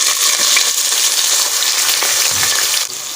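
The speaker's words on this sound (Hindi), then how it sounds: "इसमें अब डालेंगे 1 बड़ी प्याज" Chopped onion frying in hot oil in a non-stick pot, a loud, dense, continuous sizzle heard close up that eases slightly near the end.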